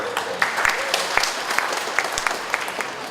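Audience applause at an Indonesian regional community gathering, a steady wash of many hands clapping for about three seconds, moderately loud and without speech.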